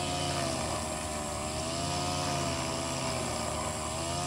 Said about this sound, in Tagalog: Yung mister ko ang nagagrass cutter ngayon.